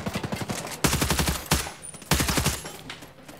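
Sustained suppressing gunfire in the tactical shooter Ghost Recon Breakpoint: loud, close bursts of rapid automatic shots in three strings separated by brief gaps.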